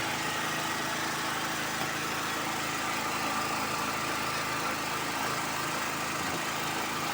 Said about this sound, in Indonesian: Ini tegangan genset running, terus ini genset kondisi on.